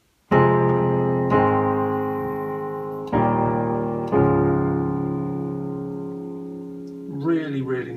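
A piano plays the chord progression of a song as four clear chord strikes with sustained, decaying tails. A voice starts speaking just after the last chord fades.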